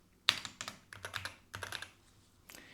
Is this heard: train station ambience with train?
no